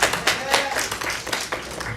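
An audience at a talk about a Bigfoot information center bursts into a brief round of clapping, dense and steady, with voices mixed in underneath.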